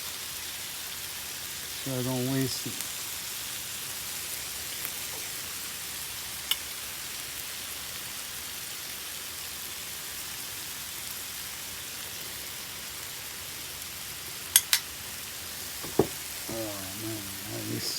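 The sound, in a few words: tomato liquid drizzled into hot pan, sizzling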